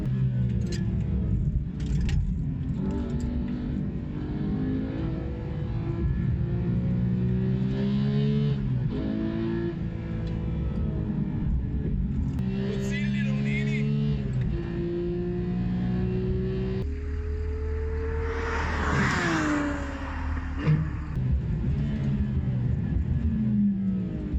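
Porsche GT3 on the Ascari race track, its engine revving loud and close with rising and falling harmonic sweeps as it accelerates and shifts, continuous throughout with a harsher burst near the end.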